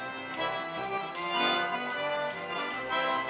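Small bells on a Saratov harmonica jingle in a quick, regular rhythm alongside the instrument's reedy chords, played close and clear.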